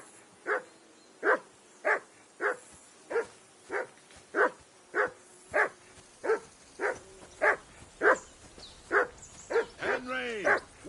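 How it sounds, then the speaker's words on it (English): A dog barks in Kingdom Come: Deliverance 2, sharp single barks repeating at a steady pace of roughly one every second, close and clear, with a whining, rising yelp at the end. "Whistle at that mutt of yours to stop barking!"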